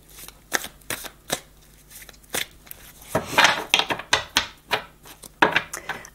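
Tarot cards shuffled for a cross spread give a series of crisp riffling and slapping bursts, close and fairly loud, coming in irregular bunches with brief pauses between.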